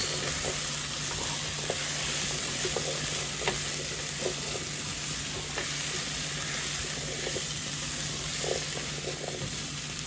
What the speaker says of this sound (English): Adding some shredded cabbage. And give it a quick mix.